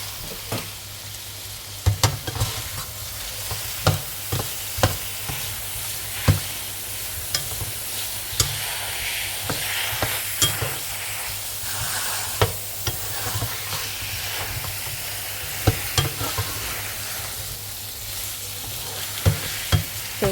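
Chopped garlic and fresh ginger sizzle loudly in a hot pan, with a spatula scraping and stirring in regular strokes over a continuous frying hiss, no voices.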